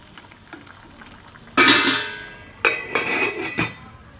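Potatoes cooking in a pot for cauliflower white kurma, with a few loud clattering bursts of metal utensil against the pot over a faint bubbling background, close and intermittent.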